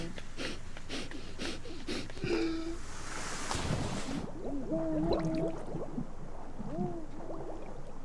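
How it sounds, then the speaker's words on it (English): A character in The Last Door video game screams underwater in a muffled, gurgling way, with wavering tonal cries over a steady watery bubbling background and a brief hiss partway through. "maybe don't scream when you're underwater"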